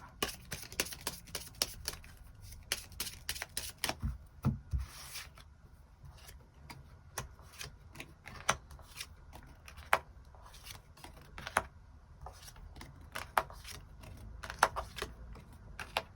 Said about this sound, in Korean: 그럼 추가 카드로 월요일부터 일요일까지 일별로 어떤 일들이 있을지 조금 더 뽑아보도록 하겠습니다.